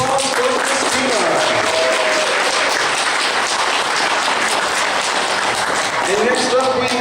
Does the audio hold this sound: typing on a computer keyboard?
no